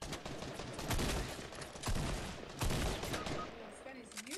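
Gunfire in the Fortnite video game, a dense run of shots with several heavier bursts standing out amid game noise, while people talk over it.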